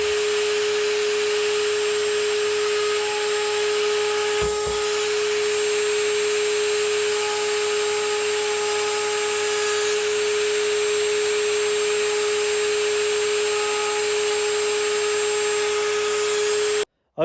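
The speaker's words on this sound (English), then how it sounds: "if you've got a nice sharp bit in your router, you keep a good firm grip on the actual workpieces, and you're only doing a slight chamfer" A router with a sharp bit cuts a slight chamfer along a hardwood workpiece, a steady high-pitched motor whine with cutting noise held throughout, loud and close, with a brief knock partway through.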